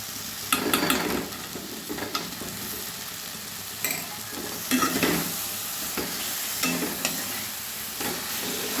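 Tomato chutney with jaggery, dates and dried mango leather cooks in a pan. A continuous sizzle runs under repeated scraping stirs at an irregular rhythm, close and fairly loud.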